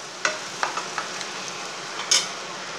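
Banana flower poriyal with grated coconut stir-frying in a pan, with a soft continuous sizzle broken by several sharp spatula scrapes and stirs, one louder clatter near the end.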